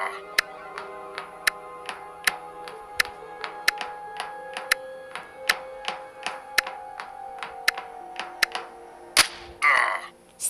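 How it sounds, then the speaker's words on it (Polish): Sharp clicking shots from the Among Us video game fire in a steady run of about twenty close, crisp reports, ending in a brief burst of louder noise, with no talking over them. "Strzał prosto w potylicę z bliskiej odległości."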